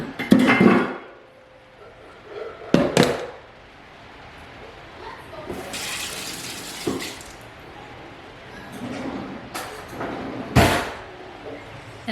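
A blender jar from making a smoothie bowl is set down in a home kitchen sink, giving several separate clunks and clattery knocks spread out over a quiet stretch, with no voices.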